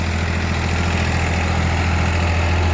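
A 50 hp tractor running a rotavator in a wet, muddy field, its engine a steady, loud, low diesel drone with constant vibration and no voices.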